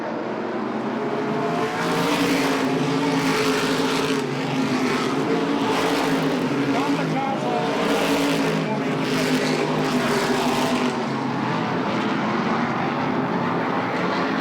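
Race cars roar down the back straightaway at Lee USA Speedway, a loud sustained engine drone swelling and fading in waves as the pack passes, with a commentator talking over it.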